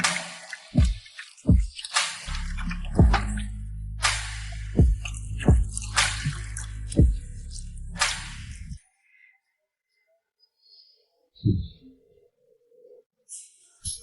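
Water is poured into a washbasin, splashing with slaps and drips for several seconds, then a pause and a few scattered splashes afterward, close and fairly loud.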